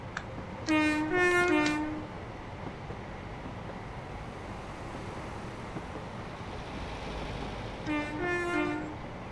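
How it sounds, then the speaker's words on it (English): In Train Sim World 4, an LNER Class 801 Azuma train's deep, harmonic horn blares twice, a long double blast near the start and another short one near the end, over a steady low rumble of motion. "Love the horn."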